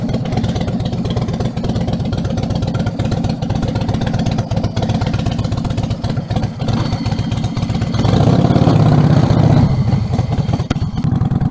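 An old motorcycle engine runs right after a kick start, a loud, close, steady throbbing idle that rises into a brief rev near the end, with no talking over it.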